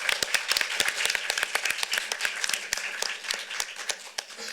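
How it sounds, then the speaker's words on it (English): An audience at a young playwrights' festival cold reading claps together, a dense, lively burst of many hands close by that holds steady for several seconds before thinning slightly. "Let's give Will a round of applause."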